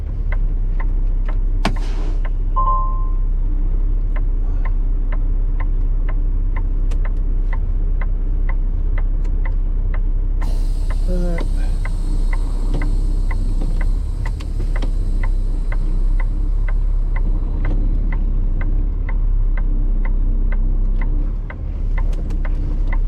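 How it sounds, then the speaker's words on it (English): A truck pushes and pulls a loaded trailer back and forth, its engine droning steadily and loud throughout with a low rumble, steady ticking and brief squeaks and a metallic rattle partway through. "I've never seen a truck do that so much, and this isn't that light of a load."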